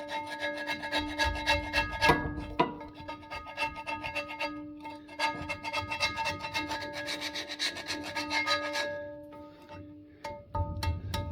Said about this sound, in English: Got my best wood chisel on the job